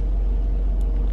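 A car passing by on a road, heard as a steady, loud, low rumble that holds for a moment without any voices.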